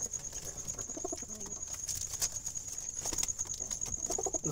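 Black Jalali wild pigeons coo in a pigeon loft where a mother bird is nesting beside her chick, low repeated coos mixed with fluttering patter under a steady high-pitched background tone.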